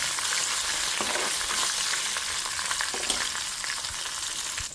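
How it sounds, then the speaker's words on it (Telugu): Curry leaves crackle and sizzle in hot tempering oil with dried red chillies and asafoetida, a loud, continuous hiss studded with sharp pops, close by and with no voices. "సో కరివేపాకు కూడా వేసేసాను"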